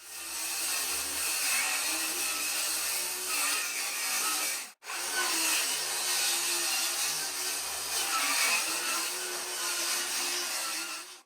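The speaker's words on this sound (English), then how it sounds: "I'm gonna just go through and recut this seam between the plywood" A saw cuts along the seam between plywood subfloor sheets in a 1930s cottage, a loud continuous grinding buzz broken by one brief pause midway, with no voices.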